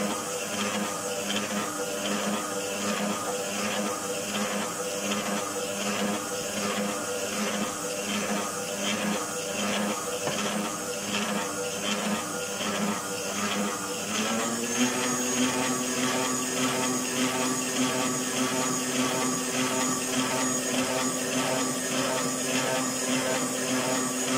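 Electric mixer beating cake batter for a birthday cake, a steady whirring motor with a pulsing, rhythmic churn that shifts to a higher, smoother drone partway through.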